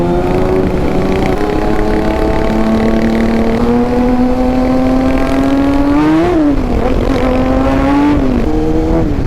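A Kawasaki Ninja ZX-6R 636cc sport bike revs close by, its engine note climbing and holding high with a short throttle blip partway through, a loud, steady mechanical drone with no one talking.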